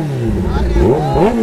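Kawasaki ZX-10R sport motorcycles rev hard at the start of a race, engine pitch sweeping up and down in loud, close bursts while voices talk over them.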